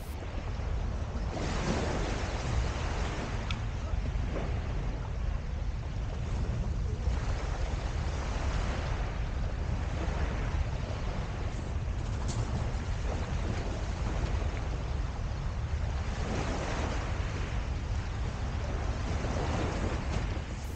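Sea waves wash steadily onto Dovercourt beach at Harwich on an overcast day with a gentle breeze, a continuous loud roar of surf with slow swells and some wind noise on the microphone, and no voices.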